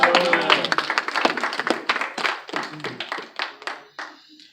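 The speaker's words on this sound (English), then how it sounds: "clap for Jesus" A church congregation claps during a sermon, with many hands in a rapid, uneven burst that thins out and fades over a few seconds.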